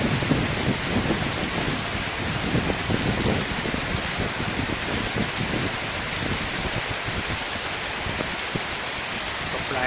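Heavy rain pours steadily in southern Thailand, a dense, constant hiss of downpour close by with no letup across the whole stretch.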